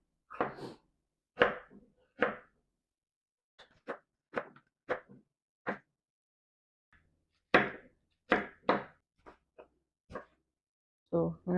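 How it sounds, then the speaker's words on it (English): Knife chopping food on a cutting board during batch meal prep, near a pot of chopped yam: a series of sharp, irregular knocks and thuds in clusters with pauses between. "So I'm just going to cut this."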